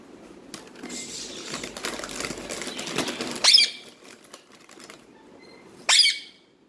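A peacock flaps its wings in two short, sharp bursts a couple of seconds apart, close to the microphone. Soft rustling and shuffling fill the gap between them.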